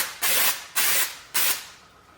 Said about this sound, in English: I'm gonna get you some brake cleaner in there